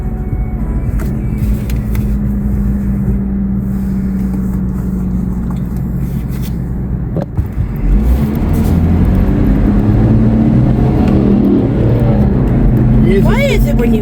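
A car engine roars close by, revving and building speed; the motor climbs steadily toward the end while a person talks over it.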